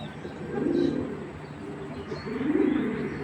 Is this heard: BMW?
no